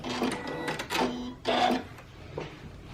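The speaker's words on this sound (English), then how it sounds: "Okay, back stitch." A sewing machine back stitching bias tape facing onto a garment beside button loops, giving a few short bursts of stitching with brief pauses between them, close and fairly loud with no talking.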